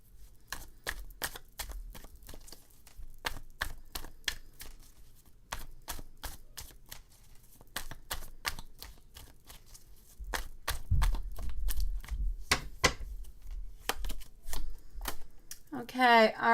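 Tarot cards being drawn and handled in a live reading: a long run of quick, crisp card snaps and slaps, irregular and close, with soft rustles and a brief shuffle-like flutter near the end.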